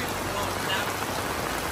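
Steady evening rain pours down in Goa during the rainy season, a dense, even hiss that stays loud and unbroken throughout.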